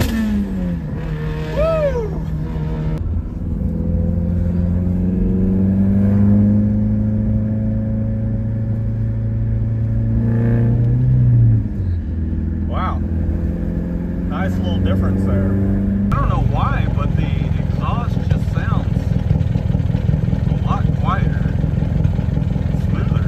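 A turbocharged car engine fitted with a Piper cam and a GT3071 ball-bearing turbo idles, then revs up and holds a rising whine before dropping back, loud and close, with someone talking over it.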